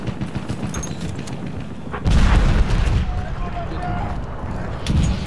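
Heavy booming cannon fire from a video game, with a loud blast rising partway through over a steady rumble of battle noise and someone talking.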